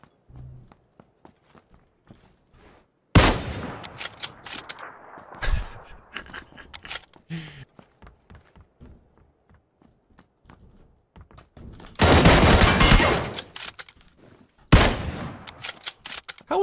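Kar98k bolt-action rifle shots in PUBG, a few loud sharp cracks separated by long quiet stretches, with footsteps and faint thuds between them and a longer burst of heavy gunfire near the end.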